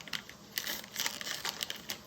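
Scissors cutting open a plastic cheese package in a kitchen, heard as close, quiet crinkling and snipping of plastic in short irregular bursts, no talk.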